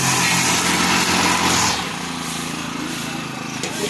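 A grass cutter engine runs during a barangay cleanup drive, giving a loud, steady, close buzzing drone that drops to a lower, slightly quieter pitch partway through and keeps running.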